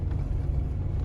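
Off-road vehicle on the Rubicon Trail among tall forest, a steady low engine rumble heard up close from inside, continuous with no voices.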